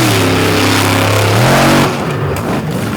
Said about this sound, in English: Elliott Miller, maybe the loudest truck on the premises this weekend